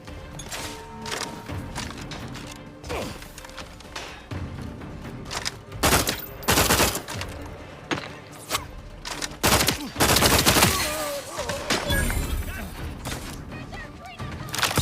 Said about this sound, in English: I don't know who's shooting at us.